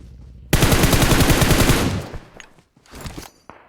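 Rapid automatic gunfire from shooting an enemy in PUBG Mobile, a loud close burst of evenly spaced shots lasting over a second, fading into a few scattered thuds and clicks afterward.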